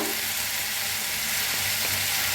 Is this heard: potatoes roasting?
yes